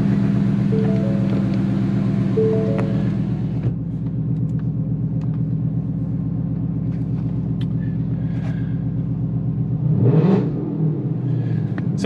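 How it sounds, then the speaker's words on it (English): A Ford Mustang S550's engine rumbles at a steady idle close by, settles lower after a few seconds, then gives a short rev near the end. "Just turn the car on and make sure it start"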